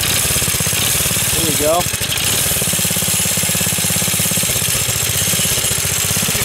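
A minibike engine runs loud and steady throughout, with a brief surge partway through, as it is started with the throttle open; a voice speaks briefly over the running engine.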